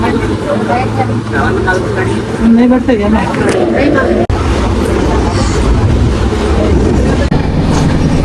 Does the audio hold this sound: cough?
no